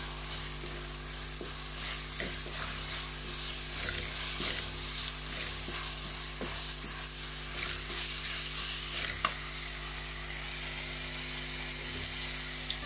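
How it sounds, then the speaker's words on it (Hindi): Onions sizzle steadily in a hot oiled pan for the whole stretch, with a spoon scraping and clacking as they are stirred at irregular intervals. "अच्छी तरह मिक्स करने के बाद आप इसमें प्याज ऐड कर दें"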